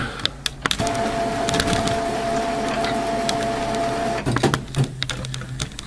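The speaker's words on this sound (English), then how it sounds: "Cartridge gizmo just moved into place." HP OfficeJet Pro 8720 printer's cartridge carriage shuttling into place: a steady mechanical whine with a sustained tone for several seconds, bracketed by clicks and clunks, close and fairly loud, no talking.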